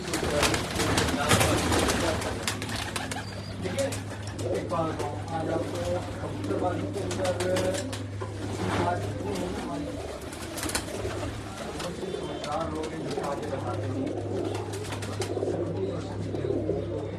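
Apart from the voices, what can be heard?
pigeons cooing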